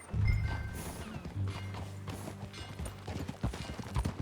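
Horse hooves clatter in the Western video game Red Dead, mixed with mechanical creaks and tack rattles alongside game music, with irregular thuds growing denser toward the end.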